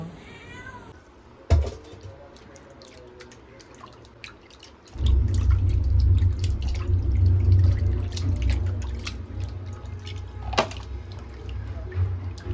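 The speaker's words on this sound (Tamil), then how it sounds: "எத்தனை வாட்டி மீனை கழுவுவீங்க? நல்லா ஒரு 3-4 வாட்டி கழுவணும்." Fish are rinsed under running water in a home kitchen during Sunday lunch preparation, with steady close splashing and trickling. A cat meows and faint drips come earlier, before the water flow starts.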